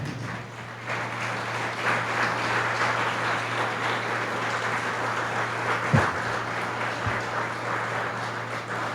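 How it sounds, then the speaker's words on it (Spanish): A church congregation applauding the Lord during a Spanish-language sermon, giving steady, moderately loud clapping over a low hum that carries through the whole stretch, with a brief bump near the end. "Dale un aplauso al Señor."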